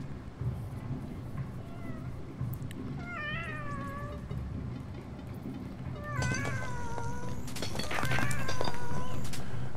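Cats in the video game Animal Well give several rising meows, some overlapping, over a constant rushing, windy background that grows louder toward the end.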